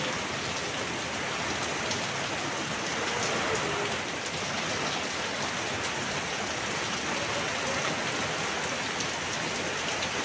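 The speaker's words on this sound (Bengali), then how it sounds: "আস্তে আস্তে বৃষ্টি শুধু বাড়তাছে আর বাড়তাছে।" Heavy rain during Cyclone Remal pours down in a dense, unbroken roar, steady and loud throughout with no letup.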